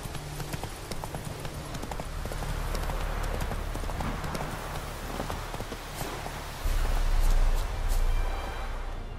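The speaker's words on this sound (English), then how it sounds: "Run, Roach" Hooves of a horse in The Witcher 3 game clop steadily at a running pace, close and fairly loud, with a rumbling ambience that swells near the end.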